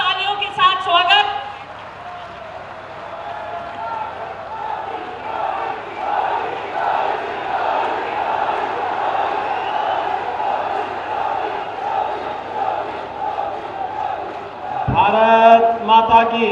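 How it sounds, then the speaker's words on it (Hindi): A large crowd at a public event in Sambhal welcomes Chief Minister Yogi Adityanath with sustained applause and cheering, a steady roar filling most of the stretch between brief bursts of amplified speech at the start and end. "श्री आदित्यनाथ ज्योति के लिए जोरदार तालियों के साथ स्वागत"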